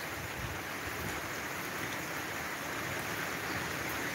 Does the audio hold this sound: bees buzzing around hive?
no